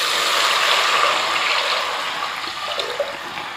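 Measured water poured into a cooking pot while making ghee rice, a steady rushing splash that fills the whole moment, loud and close with no talking.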